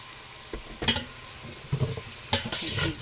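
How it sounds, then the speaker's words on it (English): Beef broth poured into a hot pan to deglaze browned bits while canning chuck roast, giving short bursts of sizzle and stirring scrapes in two louder surges, fairly close and alone. "and deglaze those bits on the bottom"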